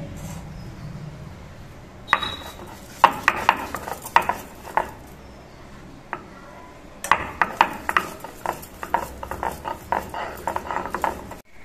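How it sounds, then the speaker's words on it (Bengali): Green chillies being ground on a stone for a banana-peel recipe, with a run of sharp, irregular knocks and scraping clinks that come in two busy bursts separated by a brief lull. "এবার কয়েকটা কাঁচা লঙ্কা বেটে নিচ্ছি।"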